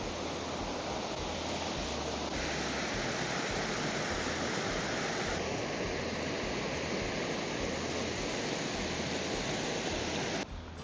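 A creek flowing strongly in spring at Hickory Run State Park, a steady broadband rush of water that stays constant throughout, close and loud with no talking.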